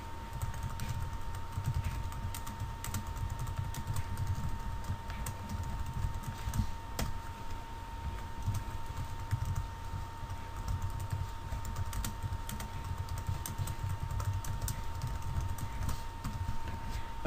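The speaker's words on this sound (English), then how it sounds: "type in this." Steady typing of code on a computer keyboard for a particle-system tutorial in Game Maker, a continuous run of soft, quick key clicks over a low background hum, close and unaccompanied by speech.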